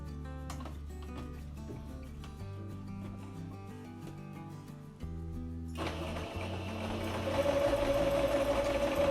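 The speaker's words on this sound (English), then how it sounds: "just stitch here both ends" A sewing machine stitching both ends of a frill for a paper-bag skirt hums and whirs steadily, growing busier and louder partway through, over a continuous tonal background.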